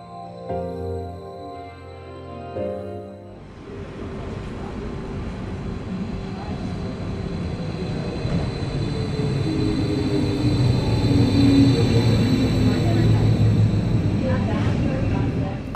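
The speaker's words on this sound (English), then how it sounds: "now we're watching our train arriving at the station of Schopfheim" A Stadler Flirt train rumbles into Schopfheim station on the Wiese Valley Railway, growing steadily louder, a broad continuous roar with squealing tones as it pulls alongside, after a few seconds of quieter voices.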